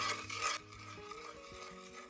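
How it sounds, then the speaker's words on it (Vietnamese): A spoon stirs a small bowl of vinegar and salt being mixed to wash fish, with a brief scraping burst at the start and then quieter, steady swirling over soft background tones. "Mình quậy cho đều lên"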